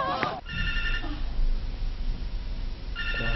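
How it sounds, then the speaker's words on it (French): A telephone ringing indoors in a Congolese comedy scene, with bursts of a trilling electronic ring at the start and again at the end, heard over background noise and some talk. "Quoi, ton téléphone qui sonne?"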